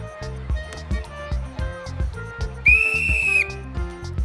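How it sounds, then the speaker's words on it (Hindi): A toy whistle gives a single shrill, sustained blast lasting under a second, sounding over a bouncy children's music track with steady drum beats. "ये है सीटी।"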